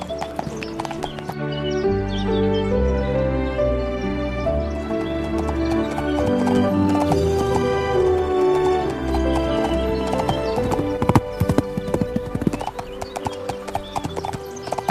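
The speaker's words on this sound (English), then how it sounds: "mounted her horse, and began her journey to her bridegroom." Hooves clip-clop in a steady, close rhythm as a horse is ridden, joined by a neigh and whinny, with musical tones running underneath throughout.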